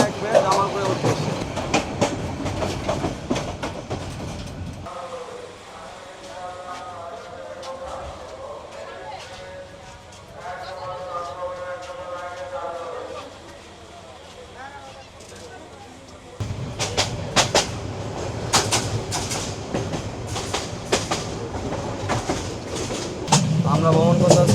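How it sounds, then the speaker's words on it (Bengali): Agnibina Express train rolling along rails toward Jamalpur, Bangladesh, with steady loud rumble and clickety-clack of wheels, easing into a quieter stretch midway where people talk over it before the roar returns. "আমরা ভ্রমণ করতেছি এখন অগ্নিবীণা এক্সপ্রেসে"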